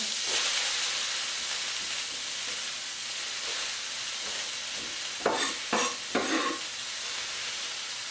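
Mixed mushrooms sizzling in a large wok, a constant frying hiss with three short scraping stirs near the end.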